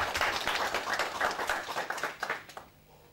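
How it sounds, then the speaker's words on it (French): An audience at a network launch ceremony claps, a dense burst of applause that is loud at first and tapers off quickly over about three seconds. "Je vous demande d'applaudir aussi Cheikh Tidiane Ndiaye"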